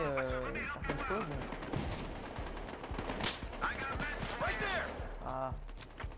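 Shooter video game gunfire, rapid bursts of shots crackling over game sound effects, with someone speaking French at the same time, moderately loud and close.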